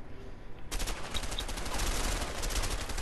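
Enemy gunfire in the video game A Way Out bursts in suddenly and continues as a dense, loud, unbroken barrage of rapid shots.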